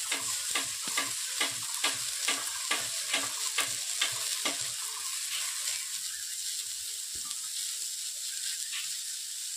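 Gima greens dropped onto part-boiled potatoes in a pan, frying with a constant sizzle and a quick regular run of scraping stir strokes that slows and fades to a softer hiss, no voices.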